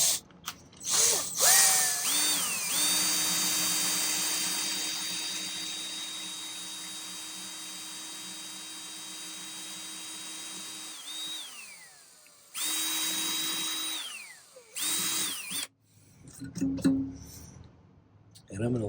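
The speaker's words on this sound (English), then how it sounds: "so I'm just going to use my drill." Power drill whirring in long sustained runs as it bores a dimple into silver for a forged ring, starting and stopping several times close up, with tool handling clicks between runs.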